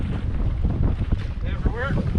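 Cold wind buffets a microphone on a fishing boat while trolling for walleye, a close, rumbling, gusty roar with a faint voice-like murmur underneath.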